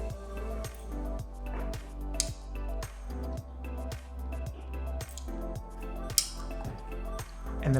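Scissors snipping through a layer of hair during a feathered cut, a fast regular series of crisp close snips under a steady low background hum.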